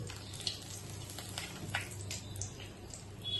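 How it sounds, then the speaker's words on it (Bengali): Whole spices such as bay leaf and cumin dropping into hot oil for tempering a prawn and banana-flower dish, giving a soft, steady sizzle with faint crackles close by. "তেলটা দেখো গরম হয়ে গেছে। এবার আমি দিয়ে দেবো ফোড়নগুলো।"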